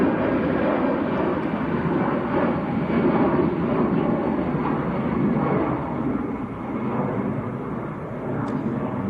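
An EasyJet Airbus A320, about twenty years old, takes off from Manchester Airport bound for Belfast, a broad, steady jet roar that holds strong throughout, heard from a distance with no voices.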